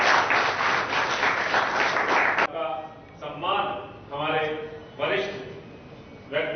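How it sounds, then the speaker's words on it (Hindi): Clapping from an audience welcoming honoured guests at a ceremony, a dense burst at first that breaks off into a voice speaking in short phrases over faint scattered claps. "जोरदार ताली के साथ स्वागत अभिनंदन"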